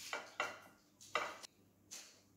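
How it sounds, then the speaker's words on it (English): Faint clinks and scrapes of a spoon against a dish as apple slices are scooped in, four or five light metallic knocks spaced unevenly, with no talk. "you're going to get your apple slices and a spoon to scoop it"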